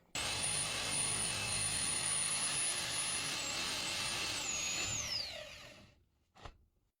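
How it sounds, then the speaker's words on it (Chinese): A Worx cordless drill whines at high speed as it bores at an angle through a panel-house wall, a steady loud tone that wavers and drops as the bit breaks through, then stops, leaving a brief clunk. "开始钻孔，先斜着钻"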